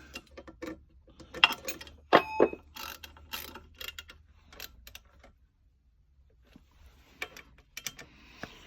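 Clamps under a machine table being tightened onto a cylinder head, heard as scattered metallic ratcheting clicks and clunks in uneven bursts, close by with quiet gaps and no talk.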